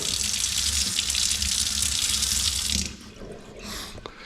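A water tap gushes for about three seconds under low water pressure, then cuts back to a weaker trickle with faint splashes and clatter at close range.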